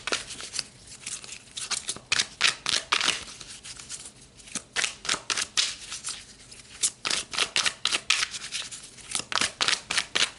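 Tarot cards drawn and shuffled from a second deck, giving repeated crisp riffling and snapping bursts in quick uneven rhythm, close and clear with no talking.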